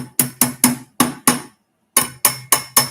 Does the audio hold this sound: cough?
no